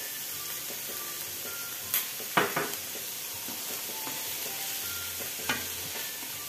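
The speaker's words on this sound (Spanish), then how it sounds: "Sofriéndola hasta que se ponga transparente." Onion sizzles steadily in a hot frying pan for chicken croquettes, a constant crackling hiss broken by a few clinks of a utensil stirring against the pan.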